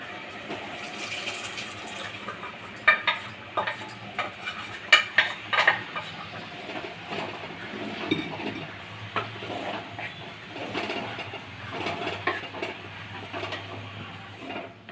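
Cooked dal being tipped into a pan of simmering greens for a Telugu leafy-vegetable lentil curry, then stirred with a spoon: soft scraping clinks and wet sloshes over a steady low hiss, close and moderate, with no talking.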